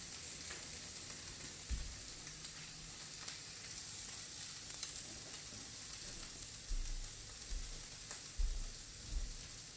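Kebab skewers, several meat pieces on short sticks, fry in hot oil with a steady sizzle, joined now and then by faint low knocks and bumps of the pan being handled.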